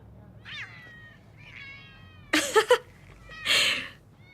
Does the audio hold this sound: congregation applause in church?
no